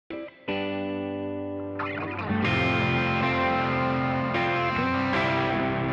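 A solo electric guitar plays sustained, heavily distorted, effect-laden chords in a chorus section, with a thick, processed tone, growing fuller and brighter partway through.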